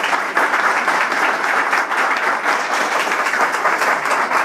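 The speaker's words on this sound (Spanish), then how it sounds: "Fuerte aplauso, Señor," Strong congregational applause in a church during a charismatic worship gathering, dense and even clapping from many hands, close and sustained throughout.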